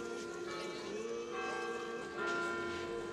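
A church bell rings with sustained, overlapping metallic tones that linger and swell slightly, heard at a moderate distance at a Bulgarian church gathering.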